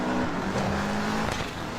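A Subaru 22B rally car flies past in a race, its engine a loud, steady, dense roar that shifts slightly in pitch as it goes by. No speech is heard.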